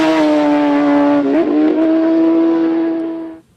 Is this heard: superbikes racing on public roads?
yes